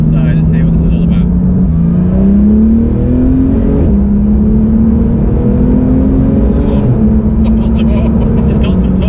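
A Porsche 991 GT3 engine pulls hard and climbs steadily in pitch through the gears, loud and close from inside the car, with short breaks between shifts and speech over parts of it.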